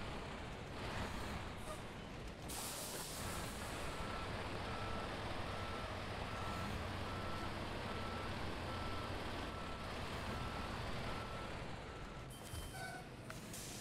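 A truck in the video game SnowRunner reversing, its backup alarm beeping steadily at a regular rhythm over a continuous engine drone, moderately loud.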